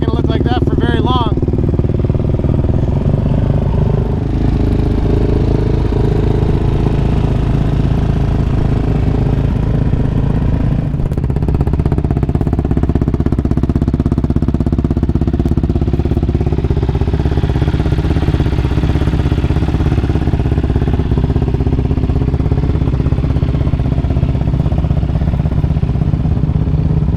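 At an OHV park, an off-road motorcycle engine drones loud and steady with constant low rumble and wind buffeting, close to the rider.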